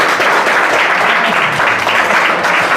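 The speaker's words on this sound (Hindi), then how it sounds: "जोरदार तालियां, जोरदार तालियां।" Students in a classroom clap loudly and continuously, a steady, dense wash of applause throughout with no speech over it.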